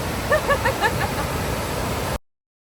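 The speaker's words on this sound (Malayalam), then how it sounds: "സത്രം കഴിഞ്ഞ് നമ്മൾ എത്തിയിരിക്കുന്നതാണ് ഈ ഒരു വെള്ളച്ചാട്ടത്തിലേക്ക്" A waterfall near Thekkady in Idukki gives off a continuous, broad rushing roar of falling water. A few short chirping calls rise briefly above it before the sound cuts off.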